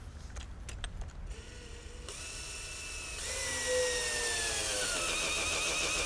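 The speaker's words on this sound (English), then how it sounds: "You just chuck this thing into a drill, you're ready to prime." A power drill spinning an engine oil pump primer whirs, faint at first, then climbs into a sustained high-pitched spin that holds steady to the end.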